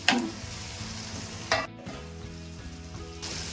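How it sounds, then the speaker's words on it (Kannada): Garlic fries in a pan for a North Karnataka ridge gourd and onion chutney, giving a steady sizzle. A few sharp stirring scrapes rise above it, and there is no talking. "ಸರಿ, ಫ್ರೈ ಮಾಡ್ಕೊಂಬಿಡೋಣ."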